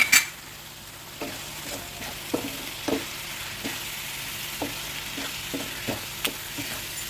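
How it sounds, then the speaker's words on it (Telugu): Stuffed snake gourd fries in oil with a steady sizzle, punctuated by regular scrapes and clinks of a utensil stirring in the pan, close and without talk. "ఇది మంచిగా నూనెలో ఫ్రై అవ్వాలి నూనె తేలేంత వరకు"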